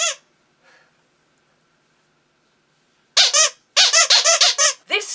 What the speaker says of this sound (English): Personally, I like to use a squeaky toy.